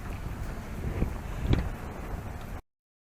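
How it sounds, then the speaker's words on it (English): Strong wind gusts buffet the microphone beside a 1975 15 HP Johnson outboard boat on water among cattails, a steady broadband roar with a couple of louder gusts, no voices. "Look at this wind."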